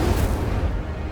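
An Incendio fire spell cast in the Hogwarts Legacy video game, a short loud whooshing burst of flame with a low rumbling boom, heard alone.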